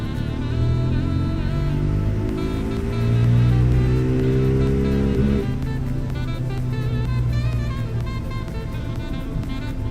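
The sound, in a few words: motorcycle engine revving on a dyno under load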